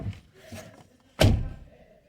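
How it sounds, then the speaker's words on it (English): A single solid thunk from the door of a 2021 Dodge Ram 1500 Classic pickup with a 5.7 HEMI, loud and close, followed by a short fading rumble after quieter handling noises. "if you open the door"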